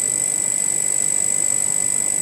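An electrostatically driven magnetic levitation motor spins up past 3000 RPM, giving off a steady, piercing high whine with a fine, rapid pulsing underneath, constant and close.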